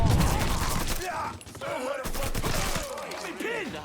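Rapid bursts of gunfire in the Mafia 3 video game rattle loudly at the start, then come in scattered shots mixed with crashes and shouting voices throughout.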